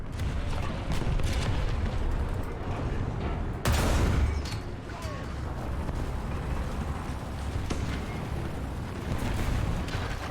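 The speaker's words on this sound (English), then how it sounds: "Artillery, fire!" Artillery fire in the online war game Heroes & Generals makes a dense, continuous rumble of booms and blasts, with one heavier explosion standing out midway, loud and without pause.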